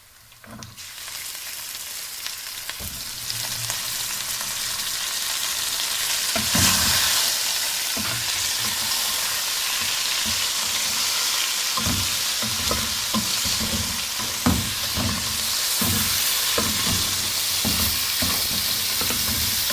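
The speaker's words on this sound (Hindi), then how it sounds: "लाइट ब्राउन मेरा प्याज हो चुका है। इस स्टेज पे मैं गोश्त ऐड करूंगी।" Raw beef tipped onto light-browned onions in a hot karahi, a sudden loud hiss swelling into a dense continuous sizzle with repeated spoon scrapes and stirring knocks, close and without talk.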